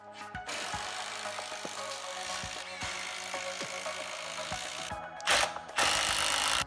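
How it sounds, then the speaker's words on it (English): Power drill driving screws through the ends of a plywood workbench frame, a steady whirring drive with brief ratcheting bursts and knocks, close and fairly loud, ending in a short louder surge. "I'm just gonna screw right through the ends here and create the frame"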